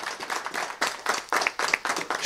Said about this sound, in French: Vous pouvez vous applaudir, effectivement.